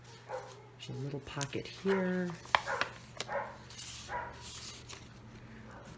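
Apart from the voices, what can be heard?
dog barking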